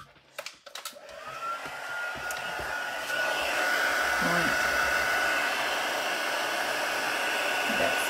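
A heat gun blows hot air in a garage, its steady whooshing roar rising after a few brief knocks and holding loud and constant.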